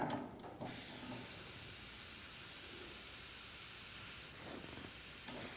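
Shielding gas hisses steadily from an Arccaptain AC/DC 200 amp TIG welder's regulator and torch line, a continuous broadband rush after a brief opening burst, with faint mechanical clicks near the end.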